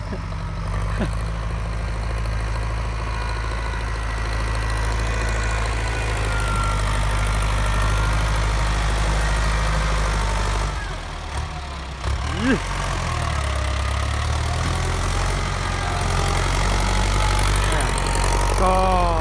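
A Ford 6610 tractor engine runs steadily at a work site, a continuous low diesel rumble with a brief dip partway through and voices talking over it.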